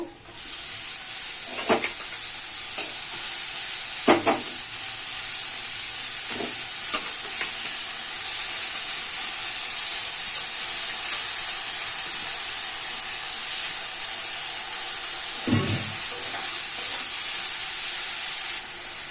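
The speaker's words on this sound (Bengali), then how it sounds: "এবার শাক কুচানোটা দিয়ে দেব।" Chopped red amaranth greens fry in a wok with salt and turmeric, a steady loud sizzle running throughout with several scraping stirs of a spatula at intervals.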